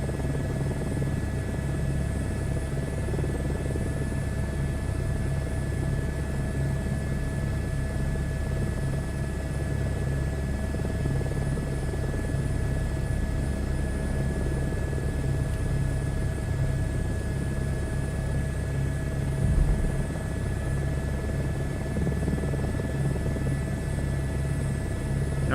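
Steady whirring rotor and turbine drone of an H125 helicopter in a flight simulator game, a constant close hum with no pauses.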